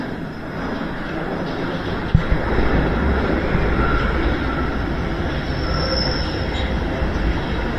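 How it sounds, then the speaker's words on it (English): A London train rolls into the station with a steady loud rumble of wheels and carriages, a faint squeal of wheels on rail rising over it near the end, and no talk. "Here comes the train"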